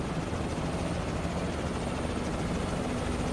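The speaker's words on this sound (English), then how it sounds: "Look at all these helicopters." Helicopter rotor and turbine noise from an H160 in Microsoft Flight Simulator 2024, a steady, loud, continuous drone with no voices.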